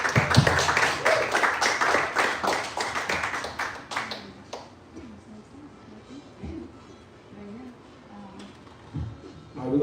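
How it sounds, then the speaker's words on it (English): Audience applause for a singer at a live swing music event in New Orleans: dense, loud clapping for about four seconds that then dies away to scattered claps and room noise. "So y'all give her another round of applause"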